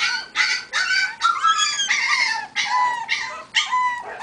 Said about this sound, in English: Did you hear that puppy crying over there? That's that Yorkie.